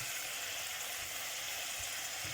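Asparagus sizzles gently in a pan as orange juice reduces and caramelizes around the spears, which are turned over. The hiss is soft and continuous with a few faint knocks, and no one speaks.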